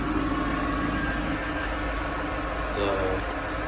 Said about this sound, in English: So I'm gonna start the vehicle.